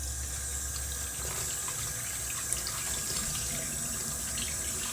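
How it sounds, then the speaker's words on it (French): Tap water runs steadily as potatoes, carrots and fish are rinsed clean in a kitchen sink, a constant near hiss with no voices. "je rince encore moi-même"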